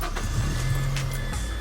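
A car engine starts up close by, a brief cranking whir settling into a low steady idle hum over about a second and a half.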